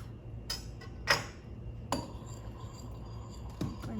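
A spoon clinks against a bowl while stirring instant coffee, several sharp metallic taps at irregular intervals over a quiet background, close and clear, with no talking.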